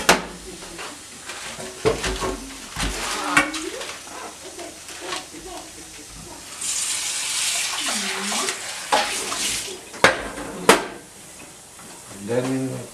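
Tap water runs into a pot for potatoes while a traditional Finnish fish dish is prepared, a steady broadband rush lasting a few seconds amid kitchen clatter and intermittent speech.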